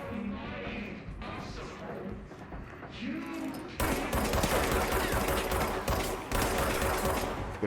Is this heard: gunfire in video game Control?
yes